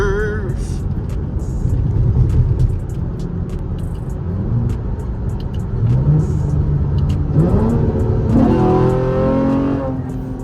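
Loud fifth-generation Chevrolet Camaro engine heard from inside while driving, a steady rumbling drone with rising revs as the car accelerates and shifts, close and dominant throughout, with a voice speaking briefly over it.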